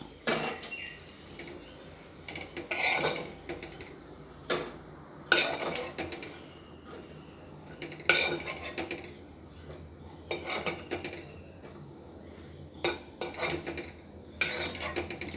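Fried cashews and raisins scooped out of hot ghee with a metal spoon, several sharp scraping clinks against the pan at irregular intervals over a low sizzle, no talking.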